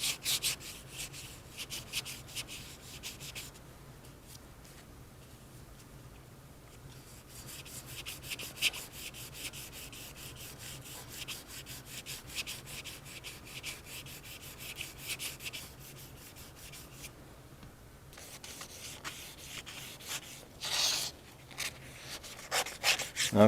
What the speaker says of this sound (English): I'm going to go ahead and just wet sand this a little bit.